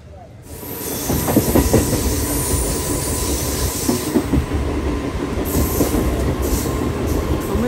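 A MEMU Express train runs between Kakinada Port and Visakhapatnam, a loud steady rumble of wheels on rails with faint clicks and a thin high whine carrying through the whole stretch, heard from inside the moving carriage.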